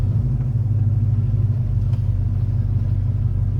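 A Ford XW Falcon's engine rumbles low and steady as the car pulls away, a continuous close-up drone with no pauses.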